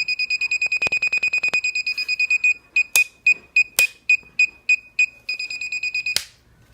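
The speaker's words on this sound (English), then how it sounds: "Basically all it does is just beep, beep and blink and do some basic distance measuring." Homemade Arduino gadget emitting a loud, high electronic beep: a rapid train of short pulses, then slower evenly spaced beeps, then a quicker run again, with a couple of clicks between, no talking.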